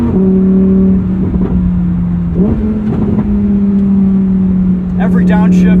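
A 2023 Lamborghini Huracan Tecnica engine drones steadily while driving, with a brief dip and rise in revs midway and a sharper climb near the end, loud and close throughout.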